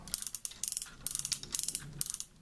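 Elbow joint of a Transformers Generations Soundwave action figure being turned, giving rapid bursts of sharp plastic ratchet clicks in several quick runs, close and crisp, with no speech.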